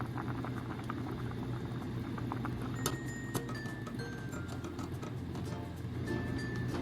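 A chicken breast sizzles and bubbles in a frying pan, a steady, close crackling with scattered pops and faint clinks throughout, and no voices.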